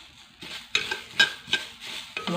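Pumpkin seeds roasting in a hot pan, stirred in repeated scraping strokes that give a rhythmic rustle and light crackle, close by and without talk.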